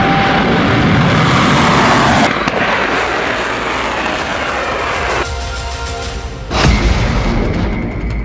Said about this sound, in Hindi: इसके बाद इजराइल पर सबसे खतरनाक मिसाइल लॉन्च